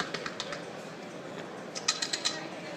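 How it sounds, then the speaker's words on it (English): Sharp clicking effect within a Dolby Atmos cinema mix, a run of light, crisp clicks scattered over a steady hiss, sparse at first then a quicker cluster near the end. "that clicking sound that you're hearing is moving all around the room"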